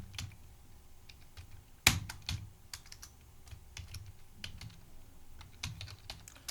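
Typing an amount into TallyPrime accounting software on a computer keyboard: close, irregular clicks of keystrokes in quick little runs, with one sharper, louder tap early on and quiet pauses between groups.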